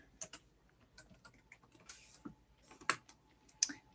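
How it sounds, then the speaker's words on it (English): Quiet, irregular clicks of typing on a computer keyboard, a scattered run of soft keystrokes with a couple of sharper taps, close by and alone. "start typing what I want it to say"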